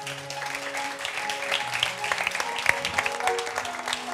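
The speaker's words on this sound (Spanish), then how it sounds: "Vamos a recibir a todos los equipos de hoy con un fuerte aplauso." Audience applause welcoming the teams of new directors at a Zabaltegi film festival session, a steady, moderately loud wash of clapping from a seated crowd lasting the whole stretch.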